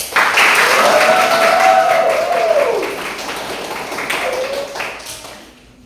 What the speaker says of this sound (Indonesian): Mari kita memberikan aplaus untuk diri kita masing-masing.